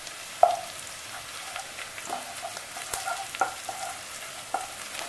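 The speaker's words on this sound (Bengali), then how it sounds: "একটা পেঁয়াজ দিয়ে দিয়েছি, এই পেঁয়াজটাকে আমি ভেজে নেব।" Sliced onion frying in a pan for a Bangladeshi-style chicken morog polao: a soft, steady sizzle with a few sharp utensil clinks and scrapes scattered through, fairly quiet and close, no talking.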